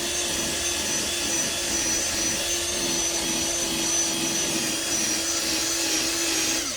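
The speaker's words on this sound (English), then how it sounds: "Uh-oh, it's dying. I might have to go get the other drill." An electric drill polishes a car headlight, its motor whirring steadily with a pulsing, slightly labored tone as the battery runs low, loud and close with no talking.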